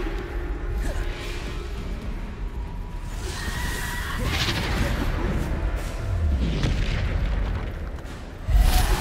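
Bombarda spell blasts in the video game Hogwarts Legacy land as deep booming explosions, a few heavy bursts rising over a rumbling battle backdrop, with a sharp loud hit near the end.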